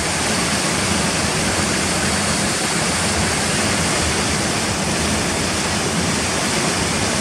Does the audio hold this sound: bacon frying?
no